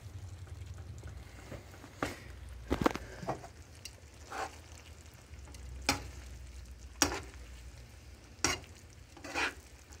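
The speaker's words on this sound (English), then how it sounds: "you just gotta stir it up and be patient, and eventually the sauce will come down to something wonderful" Sauce with parsley simmers faintly in a pan on the stove, a soft low sizzle under periodic sharp clicks and scrapes of a spoon stirring against the pan, quiet and close, no talking.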